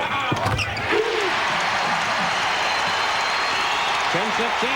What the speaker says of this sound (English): now the crowd here in Hilton is starting to get into it